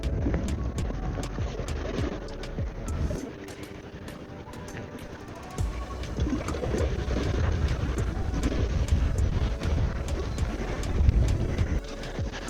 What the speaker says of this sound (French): Il y a beaucoup de vent et le brochet adore le vent.